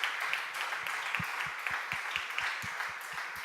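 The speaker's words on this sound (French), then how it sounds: "Nous applaudissons à des parents là." A congregation at a church baptism service applauds, giving a dense, steady patter of many hands clapping at an even level for several seconds, with no one talking over it.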